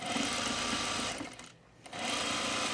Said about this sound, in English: I'm just gonna sew my 2 long underarm seams here, inner sleeve to main sleeve.